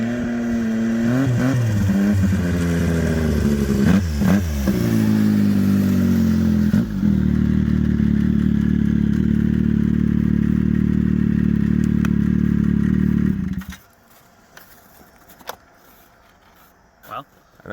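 Boosted Sidewinder engine with its blow-off valve, heard as a loud rough revving roar with rising and falling pitch, then a sustained steady drone that cuts off abruptly, followed by quiet clatter and thumps.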